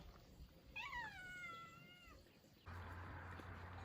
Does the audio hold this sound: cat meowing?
yes